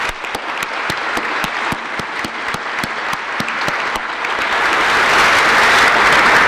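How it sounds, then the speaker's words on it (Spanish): Sustained applause from a university faculty audience honoring a professor at an academic session on cesarean epidemics, dense and steady with a few sharper individual claps up front, growing slightly louder toward the end. "esta facultad pide un aplauso"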